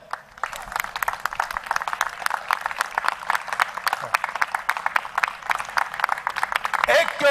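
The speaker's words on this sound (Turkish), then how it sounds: "Alkışlarımız da şimdilik 3600 ek gösterge mağduru belediye emekçileri adına arkadaşlar bir alkışlı protesto yapalım." Municipal workers hold a clapping protest at a union rally, a crowd's steady dense applause rolling on for several seconds with voices mixed in.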